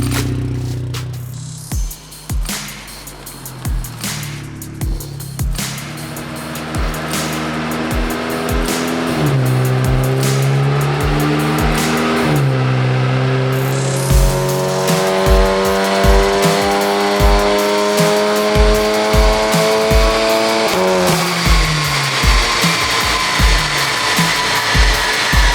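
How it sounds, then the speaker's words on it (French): A Volkswagen Golf GTI TCR tuned to Stage 2, about 360 horsepower, driven on a road test, its engine revving up through the gears with rising and falling pitch, loud and close, with sharp pops and crackles and no talk. "petit tour, petit essai routier, histoire de vérifier que tout va bien et mettre en température la voiture avant le passage au banc"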